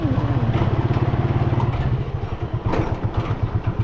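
A motorcycle engine idling close by with a rapid, even putter, then revving and stumbling into a rougher, uneven chug toward the end, loud and alone without speech.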